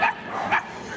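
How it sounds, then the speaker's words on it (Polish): A Border Collie at an agility championship gives two quick, fairly close yips or barks within a second. "Maciuś jest pieskiem rasy Border Collie."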